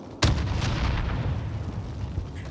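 Gunfire in Call of Duty Warzone, with shots aimed at a riot shield player: a sudden loud blast followed by a dense, sustained roar of shooting and rumbling battle noise, with no voices.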